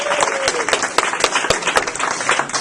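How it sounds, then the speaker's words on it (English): Audience at a political event applauding, a loud, close burst of many hands clapping with sharper individual claps standing out, brief and unbroken. "oh yes, applaud more."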